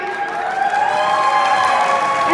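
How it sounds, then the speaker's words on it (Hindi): An audience at a hosted stage show claps and cheers together, a sustained crowd roar with steady tonal hum running underneath, fairly loud and continuous throughout. "एक दफा और अच्छी सी तालियां हो जाए."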